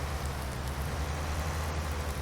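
Steady rain falling in Farming Simulator 19 after snow turns to rain, a dense, even hiss of drops with a low rumbling bed underneath, continuous and unbroken throughout.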